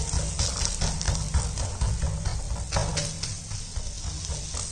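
Jowar dough spread on a hot, oiled dosa pan gives a steady close sizzle and hiss, continuous and fairly loud throughout with no talking.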